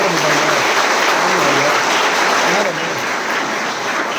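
Loud, sustained clapping from an audience at a school event fills the whole stretch, a dense and continuous roar of applause.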